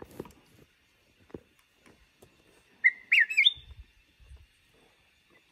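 A few sharp whistled bird calls from an electronic bird lure, a brief burst of chirps amid quiet forest with faint ticks and thumps.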